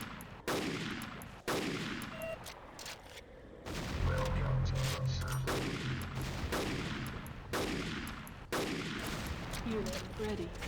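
Gatling gun fire in the video game Ren comes in loud, rapid bursts, repeated about half a dozen times, with brief pauses between them and a faint voice underneath.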